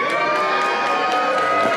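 A crowd at a women's wrestling show in Vancouver cheering loud and steady, a dense wash of voices with rhythmic swells and shouts throughout.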